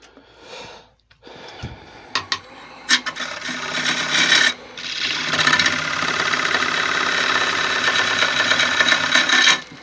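A gouge on a wood lathe cuts into a punky, badly checked log being turned into a bowl, starting with a few scraping bites, then settling into a loud continuous rasping cut with a bouncing, uneven texture.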